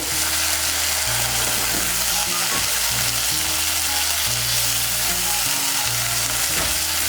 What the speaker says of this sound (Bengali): আদা বাটা আর কাঁচা লঙ্কা বাটাটাকে মিশিয়ে নেব।